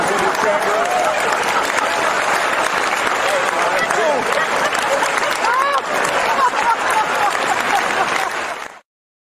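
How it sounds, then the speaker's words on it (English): Loud, sustained applause from a live audience at a boxing-kangaroo show, dense clapping with cheering voices mixed in, running steadily for about nine seconds before cutting off abruptly. "let's get a round of applause for Brian Staples"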